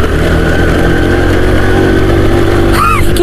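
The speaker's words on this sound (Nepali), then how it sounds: "बसन्तीको इन्जिन ठिक छ" A motorcycle engine runs loud and close throughout, a steady, throaty drone with a voice cutting in briefly near the end.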